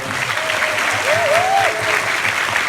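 A cinema audience at a film stage greeting for Your Name at the Busan International Film Festival claps in sustained, dense applause, with a brief whistle-like tone rising over the clapping midway.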